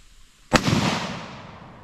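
A single rifle shot fired at a wild rogue bull through trees, one sharp close crack followed by a long rolling echo that fades slowly over open country.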